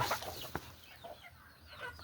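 Several chickens cluck and murmur close by, soft overlapping calls scattered through the short stretch with a little background rustling.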